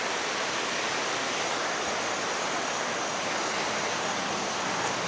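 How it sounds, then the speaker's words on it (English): Floodwater of the Great Egg Harbor River rushing through Weymouth Furnace State Park in Atlantic County, New Jersey, during a record flood: a loud, constant, broadband roar of pouring water, unbroken and close, with no voices. "It's just a lifetime flood. A record flood."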